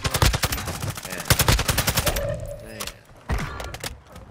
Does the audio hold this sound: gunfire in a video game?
yes